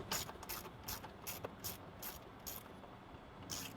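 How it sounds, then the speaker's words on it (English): A hand ratchet loosening the 13mm bolts that hold down the airbox on a Ford F150 pickup, clicking in steady, evenly spaced bursts of pawl clicks, close and fairly quiet, with no talking. "Now we're going to remove the 2 13mm bolts holding the airbox down."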